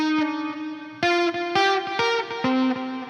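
Distorted electric guitar with the volume knob rolled back to around 3 or 4, picking about seven notes and short chords, each with a clear attack and quick decay, played alone with effects coloring the tone.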